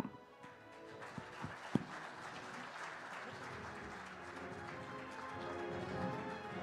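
Sustained audience applause fills a live TV9 political summit session featuring Punjab's chief minister, a dense steady clatter of many hands with a few sharper claps standing out near the start.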